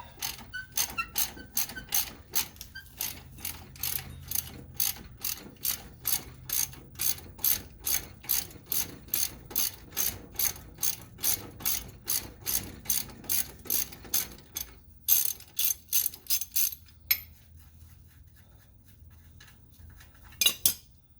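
A ratchet loosens the front strut bolts on a 2008-2016 Chrysler Town & Country minivan. It gives a long, steady run of close, sharp clicks in even strokes, with a few pauses near the end.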